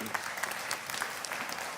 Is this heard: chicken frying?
no